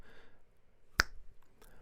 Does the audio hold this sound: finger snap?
yes